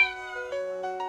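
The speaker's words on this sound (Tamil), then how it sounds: "மியா மியா பூனைக்குட்டி." A kitten gives a single clear, drawn-out meow with a rising and wavering pitch, close and alone with no other sounds around it.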